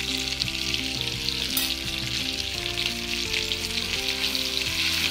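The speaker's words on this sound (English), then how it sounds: "Now we're going to add the garlic paste." Garlic paste sizzling and frying in a pan with melted butter, a loud continuous hiss, with a steady tonal hum running underneath.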